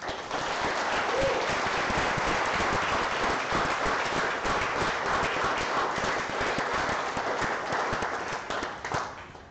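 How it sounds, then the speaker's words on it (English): An audience applauds its speakers at the close of an Ignite Liverpool evening event, with dense, sustained clapping filling the room at a steady loud level for nearly ten seconds before tapering slightly at the end. "if we can give a big round of applause for all of our speakers tonight"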